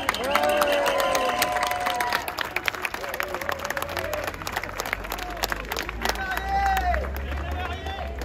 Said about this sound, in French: Oui, un applaudissement pour les jeunes mariés qui sortent de la mairie.